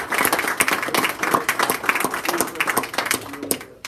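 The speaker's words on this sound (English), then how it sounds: "I think we ought to give Jeff a round of applause" A round of applause at a board meeting, many hands clapping in a dense, fairly close burst that thins out and fades near the end.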